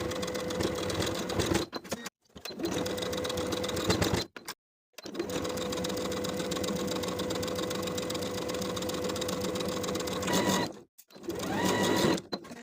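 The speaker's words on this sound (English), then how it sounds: "on the inside, I'm going to sew close to the upper inner edge of the facing all the way across the bottom of the skirt" A sewing machine runs in long steady bursts while stitching close to the inner edge of a facing along a skirt hem, its fast even whirring loud and near, broken by a few brief pauses.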